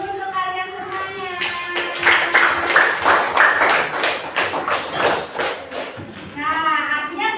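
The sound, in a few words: class clapping for all the student groups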